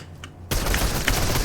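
In the Fortnite video game, grenade blasts and gunfire rattle out in a sudden dense burst after a quiet moment, a close, sharp flurry of booms and shots lasting about a second.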